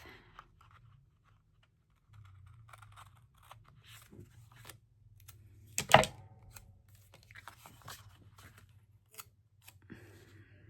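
Scissors trimming paper for a planner page, a few quiet snips and rustles of paper close by with one sharper louder cut in the middle, otherwise near silence.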